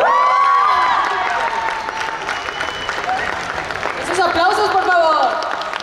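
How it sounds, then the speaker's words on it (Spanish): An audience applauds at a dance cover contest award ceremony at Anime Fest CDMX 2024, with sustained clapping and some cheering running steadily under a loud voice speaking over it. "¡Aplausos, por favor!"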